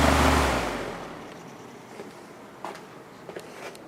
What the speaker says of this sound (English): This is a shaded pull motor, by the way.